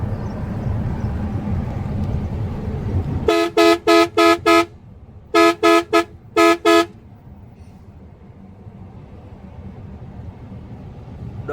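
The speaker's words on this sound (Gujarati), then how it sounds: "હોર્ન તો મારવી, સાદો હોર્ન છે" A plain road horn on the Bharatmala highway, apparently from a cement-carrying truck, sounds about ten short, loud, even toots in three quick bursts over a steady engine and road rumble.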